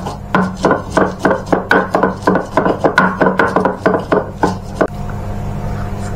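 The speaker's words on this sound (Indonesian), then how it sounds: "Ini kemirinya saya ulek dulu, guys." Candlenuts being pounded and ground with a mortar and pestle, a steady run of about twenty close, sharp knocks with scraping between them, then a quieter rubbing grind near the end, with no talk.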